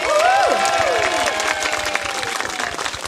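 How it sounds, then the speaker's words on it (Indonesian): Audience applause at a JKT48 year-end last show and debut concert, clapping and crowd noise under sweeping, sliding tones from the stage sound system, tapering off toward the end. "Tepuk tangan dong"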